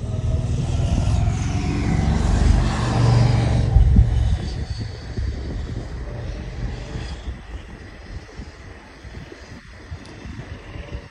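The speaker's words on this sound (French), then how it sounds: "il y a beaucoup de vent" Heavy wind buffets and roars with low rumbling gusts, strongest early on, then easing into a steadier rush of air.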